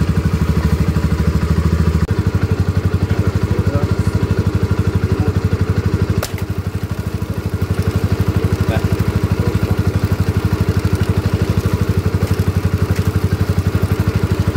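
A Maya Maha XT125X motorcycle engine running in first gear with its rear wheel spinning freely to warm up, a loud, steady, rapid thumping drone that dips briefly in the middle before carrying on evenly.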